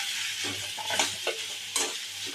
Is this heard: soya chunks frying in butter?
yes